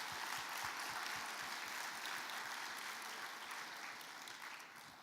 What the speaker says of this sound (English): I would like us all, please, to applaud them and thank them for kindly sponsoring the event.